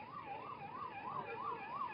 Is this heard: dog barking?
no